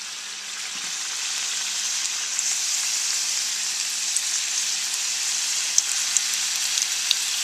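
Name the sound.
wontons frying in hot oil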